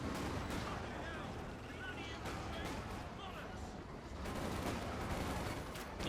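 A Land Mattress rocket barrage in the World War II strategy game Company of Heroes 2, heard as a dense, continuous rumble of explosions and gunfire with scattered sharper cracks throughout, and a voice faintly under it.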